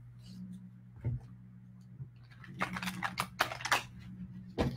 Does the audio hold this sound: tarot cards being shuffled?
yes